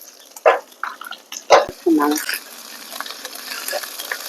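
Elephant yam and dry fish frying with crushed garlic and a pinch of turmeric in a pan, a soft sizzle broken by a few sharp clatters and stirring bursts, with a brief voiced sound in the middle.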